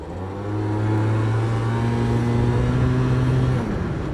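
A Yamaha BWS 100 scooter fitted with a Malossi 125cc kit revs up, a close, loud, buzzy engine tone climbing and holding for several seconds before easing off.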